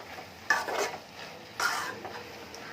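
Food with tomato sauce is stirred in a pan, giving two short bursts of scraping and clattering against the metal, with a faint sizzle between them.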